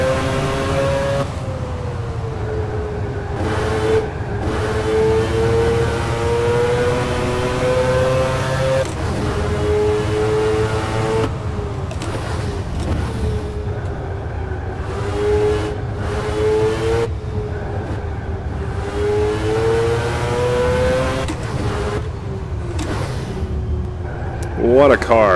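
A Group C race car engine howls through the Spa circuit in the rFactor 2 racing game, its pitch rising and falling steadily through gear changes for the whole stretch, loud and continuous, with a man exclaiming over it at times.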